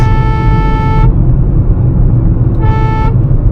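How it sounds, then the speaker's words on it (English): A car horn honks on a highway to overtake another vehicle, two loud sustained blasts, the first about a second long and the second starting after a short pause, over steady road noise. "I'm honking so much because I just want to overtake this guy as soon as possible."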